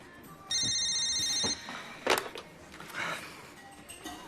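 An electronic phone ringtone trills for about a second, followed by some clattering and muffled handling noises in a quiet room.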